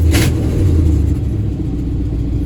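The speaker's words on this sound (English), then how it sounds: "That exhaust leak bugs me." An old truck engine with an exhaust leak idles steadily up close, a deep continuous low rumble throughout with a brief higher burst near the start and no talking.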